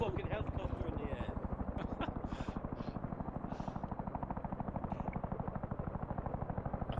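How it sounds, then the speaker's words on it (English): A military-style helicopter in flight over an airborne-division exercise gives a steady rapid rotor chop throughout, a continuous pulsing thud with whine above it, loud and close, while voices talk faintly underneath. "Because you've got a fucking helicopter in the air."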